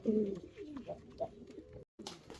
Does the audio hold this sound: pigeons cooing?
yes